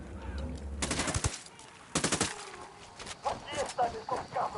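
Video game gunfire in Ghost Recon Wildlands: two loud bursts of rapid shots near the start and middle, then scattered sharper cracks and clatter, with voices talking over the action.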